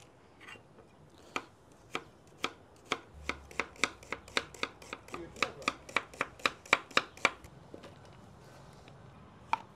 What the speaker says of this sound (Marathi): ग्रेव्हीसाठी आपण कटिंग करून घेतोय।